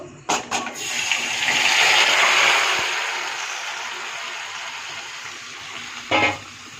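Marinated meat goes into a hot pan in a home kitchen, bursting into a loud hissing fry that swells and then settles to a steady sizzle, with short clanks at the start and near the end.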